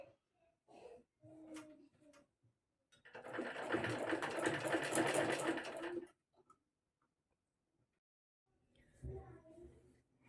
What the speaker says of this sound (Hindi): अभी सिलाई कर रही हूँ